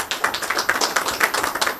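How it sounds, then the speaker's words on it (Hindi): Clapping from a small group at a blood donation camp, honouring a woman donor; quick irregular claps at moderate loudness, close by, with no voices over them. "मैं अपने कैमरामैन से कहूँगा कि महिला बहन के लिए सबसे पहले आप लोग सभी तालियाँ बजाइए।"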